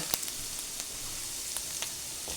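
Food fries in a pan with a soft, even hiss and a few faint pops, quiet and brief with no talking.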